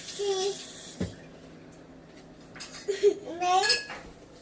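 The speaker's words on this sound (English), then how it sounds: "Next you get your fork and then just mix." A fork clinks and scrapes against a dish during breakfast cooking, giving a few sharp metallic taps and then a quick flurry of scraping clinks. Quiet pauses fall between them, with a voice faintly nearby.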